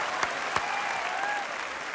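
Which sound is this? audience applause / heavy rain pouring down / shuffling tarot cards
audience applause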